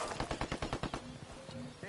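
Rapid bursts of automatic gunfire in the video game Ghost Recon Wildlands, loud and close, a rattling string of about eight shots in the first second, then scattered single cracks among game sounds and a brief voice.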